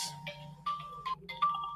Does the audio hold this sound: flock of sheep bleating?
no